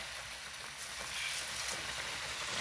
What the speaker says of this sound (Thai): เดือดแล้วเราก็ใส่ปลาเลย